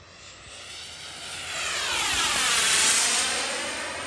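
A Freewing Zeus 45NT turbine RC jet on its maiden flight makes a 40% throttle pass, its whooshing turbine whine swelling as it approaches and then fading as it passes by.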